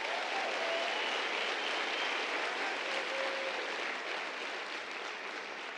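Steady, dense applause from a theater audience at the Harris Theater during a MEX Talks event, loud and sustained throughout with no break, slightly easing near the end.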